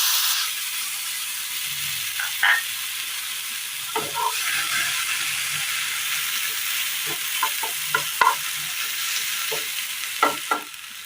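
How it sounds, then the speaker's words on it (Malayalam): Chopped tomatoes sauté in the same pan used to roast grated coconut, a constant close sizzle broken by scattered scrapes and clicks of a spoon stirring against the pan. "തേങ്ങ വറുത്തെടുത്ത അതേ പാനിലേക്ക് തന്നെ തക്കാളി അരിഞ്ഞത് കൂടി ഇട്ട് കൊടുക്കാം"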